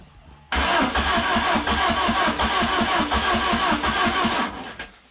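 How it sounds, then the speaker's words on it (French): Peugeot 106 fitted with an XU7JP4 engine cranking hard and struggling to start, a loud, close, steady rhythmic churning that runs for about four seconds and then cuts off. "elle en chie à démarrer, mais à démarrer"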